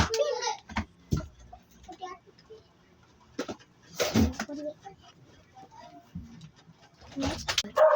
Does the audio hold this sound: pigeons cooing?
yes